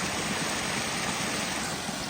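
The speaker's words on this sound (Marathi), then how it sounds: "इथं तर कसं धबधबा आहे खळा खळा खळा खळा खळा पाणी वाहिले" A continuous, even roar of rushing water, like a waterfall, fills the scene without pause.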